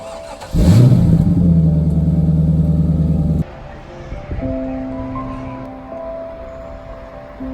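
A C5 Corvette V8 engine cranks and fires, then revs loudly up close with a steady rumbling idle for a few seconds before cutting off, followed by quieter idling and brief speech.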